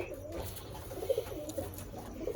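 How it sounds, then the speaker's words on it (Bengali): Soft, low pigeon coos repeating in murmuring bursts, quiet and close inside a pigeon loft. "সব পায়রা ঢোকানো হয়ে গেছে আমাদের ঘন্টু মাস্টার ঢুকিয়ে দিয়েছে সব"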